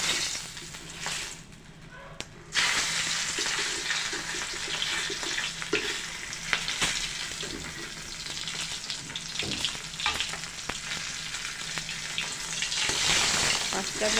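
Pangas fish pieces fry in hot oil for the head-and-tail bhuna, a steady close sizzle and crackle with stirring clatter; after a brief quieter opening the frying runs loud and continuous, faint speech now and then.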